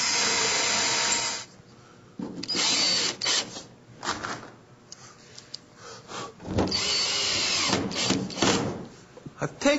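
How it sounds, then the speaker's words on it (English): A power drill fitted with a countersink bit drives screws into plywood at close range, with several loud whirring bursts of varying length separated by short pauses. "now I'll just use my drill and some screws and a countersink bit to screw this onto the back"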